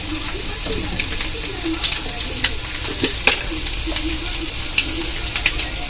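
Garlic and onion paste frying in a pan for an egg sandwich filling, giving a loud, steady sizzle with scattered spoon scrapes and clinks as it is stirred.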